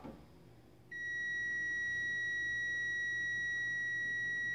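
After a quiet moment, a sustained high-pitched multimeter continuity beep starts abruptly, testing a microwave oven transformer's primary coil, and continues unbroken, clear and close, with no talking.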